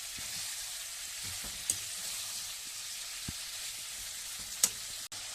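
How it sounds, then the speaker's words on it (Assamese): Pork sizzling in a pan for a homestyle Assamese recipe, a steady low hiss with a few sharp clicks and knocks of a utensil, close by and no talking. "এয়া এনেদৰে ভাজি ল'ব মাংসটো।"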